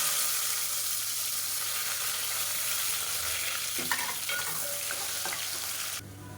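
Sliced big onions and fennel seeds sizzling steadily in hot oil for biryani, a continuous close frying hiss with light stirring clatter partway through.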